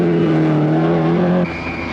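A Talbot Sunbeam Lotus rally car driven by Stig Blomqvist on the 1982 Lombard RAC Rally, its engine roaring loud and steady, then dropping in pitch briefly as it passes, with no talk.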